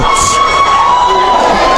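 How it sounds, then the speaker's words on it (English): Spectators at a primary schools' boys football tournament match cheer and shout continuously, children's voices prominent, loud and close with a steady roar and no pauses. "you hear the crowd, you hear the support for the team"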